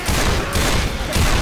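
Dense gunfire rattles through a shooter video game, a loud continuous fusillade of overlapping shots filling the whole stretch with no pauses.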